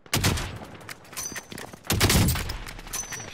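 Gunfire in a squad-based military shooter video game: several sharp bursts of rifle shots spaced across a few seconds, loud and close, with brief gaps between volleys.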